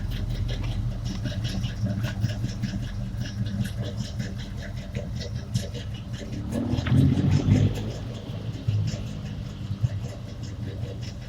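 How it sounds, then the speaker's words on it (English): A 1985 Chevy C10 square-body pickup with a cammed 350 V8, headers and Flowmaster exhaust idles nearby with a low, lumpy burble. The engine swells briefly in a deeper rev partway through, then settles back to a steady rumble. "Those Flowmaster exhausts, just awesome. Awesome sounding."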